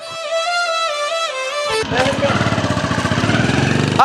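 Motorcycle engine starting up and idling with a rapid, steady putter, loud and close, after a stretch of background music.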